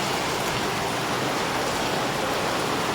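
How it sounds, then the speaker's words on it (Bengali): Heavy rain pours down outside a home, a dense, even hiss of falling water that stays constant and loud throughout with no talking. "দেখো দেখো কি বৃষ্টি নেমেছে"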